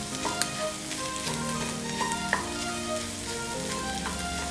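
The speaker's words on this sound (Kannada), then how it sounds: "ಚೆನ್ನಾಗಿ ಫ್ರೈ ಮಾಡ್ಕೊಳ್ಳೋಣ ಇಷ್ಟನ್ನು." Egg side dish sizzles and fries in a pan, a steady crackling hiss punctuated by occasional stirring clinks, close and continuous with no talk.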